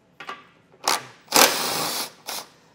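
A 15mm socket tool spins off the bumper beam nuts on a 2022 Chevrolet Traverse during a trailer hitch install. It gives four short, close whirring bursts separated by brief pauses.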